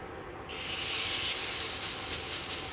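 Steak hits a hot pan and breaks into a loud, steady sizzle, a broad hiss that swells and holds close by without any talk.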